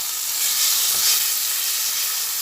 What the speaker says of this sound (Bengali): মিশিয়ে নিয়ে ভেজে নিচ্ছি